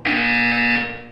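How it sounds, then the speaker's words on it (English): A loud, steady electronic buzzer from the Portal 2 video game sounds once, a single sustained harsh tone lasting about a second with no talk. "You will hear a buzzer."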